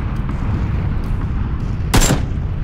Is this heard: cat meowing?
no